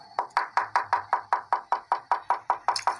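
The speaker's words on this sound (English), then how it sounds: "you knock on anything around you like a table for you to" Knuckles rap on a table in a steady run of about fifteen evenly spaced knocks, close and crisp, with no voices.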